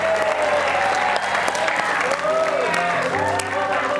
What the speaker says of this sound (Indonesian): Boleh kita berikan tepuk tangan sekali lagi buat Joksi